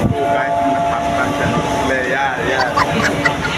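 A train rumbles steadily along with a constant low roar and rattling, while voices talk over the noise inside the carriage.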